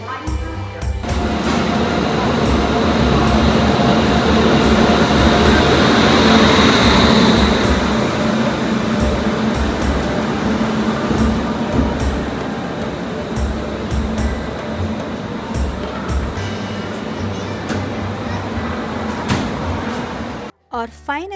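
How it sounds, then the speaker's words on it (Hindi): Train rumbling into a station in India, a loud broad roar swelling and then easing as it slows, with background chatter of people on the platform. "और फाइनली हमारी ट्रेन भी आ गई"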